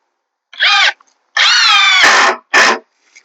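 Short bursts from a power drill driving screws into the wooden frame of a raised garden bed: a brief whir, a longer sustained run that bogs down as the screw seats, then another quick burst, loud and close.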